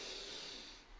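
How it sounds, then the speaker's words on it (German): A slow, airy breath during a calming relaxation exercise, a soft hissing exhale heard close and quiet, with no talk. "wir atmen ein und atmen aus die andere Strecke."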